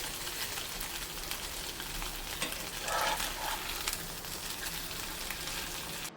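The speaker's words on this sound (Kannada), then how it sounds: "ಈಗ ಎರಡೂ ಕಡೆ ಇದನ್ನು ಚೆನ್ನಾಗಿ ಕಾಯಿಸಿ ತೆಗೀರಿ." Mackerel (bangude) masala fry sizzles steadily in a pan as the fish cooks on both sides, a dense, continuous crackle with no voices.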